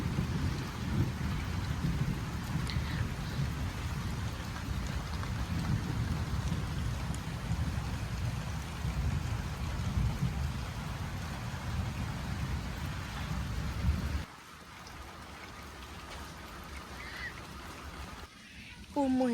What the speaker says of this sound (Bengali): সকালবেলায় তো দেখলেন কি পরিমাণ বৃষ্টি নামছে